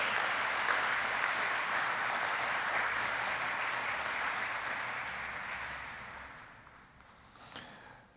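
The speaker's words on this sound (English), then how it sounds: "How about a big round of applause for our newest aerospace medicine residency graduates?" Applause for new aerospace medicine residency graduates at a graduation ceremony, a broad crowd clapping that holds strong then gradually thins and fades toward the end, with a few last claps.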